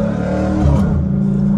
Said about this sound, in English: You know I'm a downshift every time.